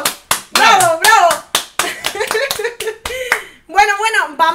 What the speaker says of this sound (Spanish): ¡Aplausos! ¡Bravo, bravo!